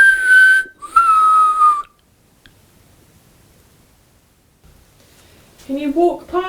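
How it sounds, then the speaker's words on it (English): A person whistles in a dim room of an old gaol at night, giving two sustained tonal notes with a slight slide, loud and close. Near-silence follows, and then a few short whistled or voiced notes. "Can you copy this whistle?"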